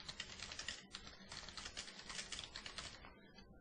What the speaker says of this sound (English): So I'll just type in a keyword